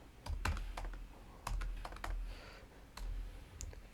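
Keys clatter on a computer keyboard in short, irregular bursts of quick taps, close by and fairly quiet, with no talking.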